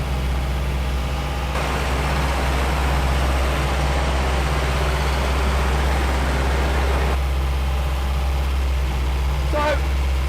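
A Unimog truck engine runs steadily throughout as a constant low rumble and drone that persists at the same loudness, with no speech over it.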